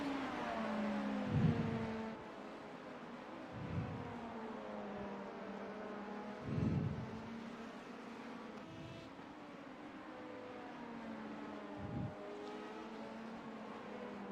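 Race car engines hum steadily from an in-car view in an IMSA endurance racing game at Spa, with LMP2 and hybrid prototypes, the drone shifting pitch and swelling periodically as cars pass or rev.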